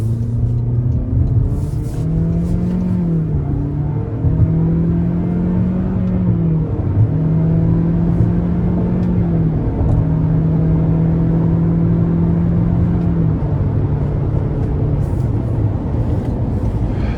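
A 2025 Toyota Corolla Cross XLE AWD pulling hard in manual mode, its CVT stepping through simulated shifts: engine drone climbs, dips at each shift, then climbs again, loud and steady from inside the cabin without talk.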